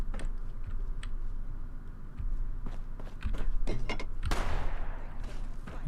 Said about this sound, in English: And here's some gunfire.